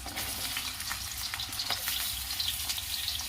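Cauliflower sizzles and fries in a hot pan for a mixed vegetable dish, a steady crackling hiss with occasional stirring scrapes, close and continuous.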